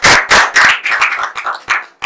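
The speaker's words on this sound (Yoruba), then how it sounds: "Ẹ pàtẹ́wọ́ fún." A small group claps for a contest winner, sharp and close. Quick irregular claps start loud, then thin into scattered slaps.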